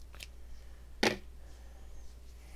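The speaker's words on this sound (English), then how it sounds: "we are going to cut the yarn." Yarn snipped with scissors after a crochet round on a cowl, a single short crisp cut standing out against a quiet room background, with a fainter snip just before it.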